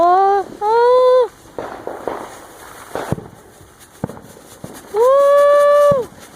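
Home fireworks going off nearby: a loud rising whistle, then a stretch of crackling bursts and sharp pops, and another long piercing whistle near the end.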